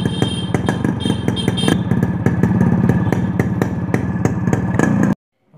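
A motorcycle fitted with an altered muffler core runs close and loud with a fast, punchy exhaust beat and steady thumping pulses, then cuts off abruptly.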